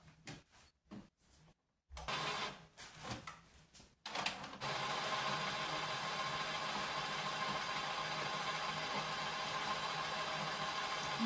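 A new shop printer runs its initial ink loading cycle: a few faint clicks and short mechanical bursts give way to a continuous, steady whirring hum that holds evenly to the end, fairly quiet and with no voices.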